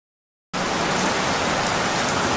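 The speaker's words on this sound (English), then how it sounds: "Oh no! It's raining!" Rain sound effect in a Gacha Club animation, a steady hiss of heavy rainfall that starts abruptly and continues evenly at full strength, with no voices.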